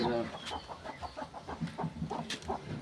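Chickens cluck in short repeated bursts close by, with a few sharper calls mixed in among the flock.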